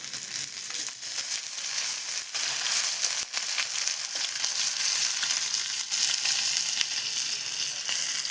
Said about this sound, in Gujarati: તો ચાલો હવે મચ્છીને આપણે હલાવીએ